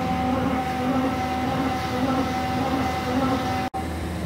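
A CNC feed mill roughs out the centre of a part with through-coolant turned off, giving a steady, loud machining drone with a constant whine, unbroken until a brief dropout near the end.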